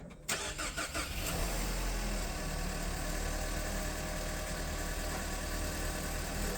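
A Ford Edge engine starts by remote key: a brief cranking burst, then a steady, close, mid-pitched idle hum.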